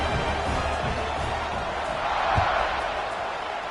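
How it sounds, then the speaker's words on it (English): A stadium crowd in the College Football 26 video game, Tulane at Buffalo, roars as a steady wash of cheering, swelling slightly in the middle before settling, with a faint thump near the peak. "this crowd is feeling themselves after that last drive"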